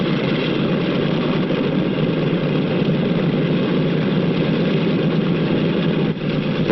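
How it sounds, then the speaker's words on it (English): A 1940s airliner's engines run steadily at the airport before taxiing to the runway, a constant loud droning roar without pause, with no voices. "The plane starts over to the runway."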